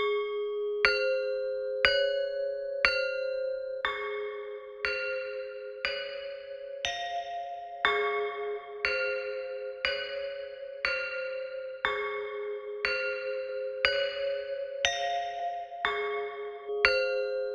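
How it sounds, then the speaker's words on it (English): The ambient bells preset of the Excite Audio Lifeline Expanse synthesizer plays a slow sequence of bright, ringing bell-like notes, about one strike per second, each decaying smoothly over a sustained pad, clean and close with no voices. "Keys, we have ambient bells."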